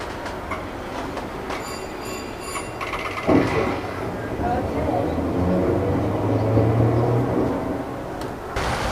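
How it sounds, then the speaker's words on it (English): An old streetcar ride at the Cincinnati Museum Center: a steady rumbling rail car with a low motor drone rising midway, a sharp clunk around the third second and faint bell-like tones early on, with people talking quietly over it. "So let's take a ride on the streetcar."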